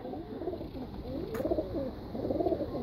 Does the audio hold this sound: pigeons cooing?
yes